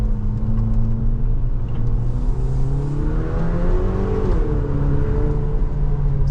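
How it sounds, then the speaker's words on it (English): A 2024 Haval H6 GT's exhaust drones loudly and steadily as the engine revs, its rumbling pitch rising and dipping, heard from inside the car through a slightly open window. "open the window a little bit and you can hear the exhaust sound."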